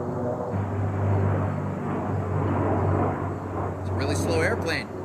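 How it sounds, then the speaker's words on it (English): A slow airplane passes overhead as a steady, low droning rumble that fills the outdoor scene, with people talking over it throughout. "It's a really slow airplane."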